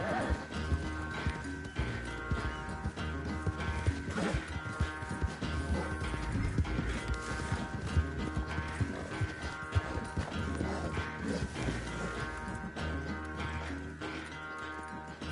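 Horse in Red Dead Redemption 2 clip-clopping at a run with occasional whinnies, steady hoofbeats under a dense game music and ambience bed throughout.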